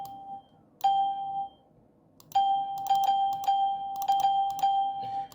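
A Windows 2000 system chime plays from the speaker of a Dell Latitude D505 laptop, a clear bell-like ding-dong tone that sounds once, then repeats in a quick run of chimes. It is loud and close, with no speech.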